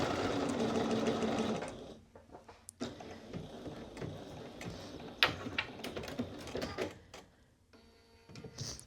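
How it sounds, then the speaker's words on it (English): Sewing machine back stitching along a pocket box on a Kimball bomber jacket: a dense, steady mechanical whir for about two seconds, then quieter clicks, handling knocks and brief bursts of stitching. "we're sewing back to where we started and back stitching"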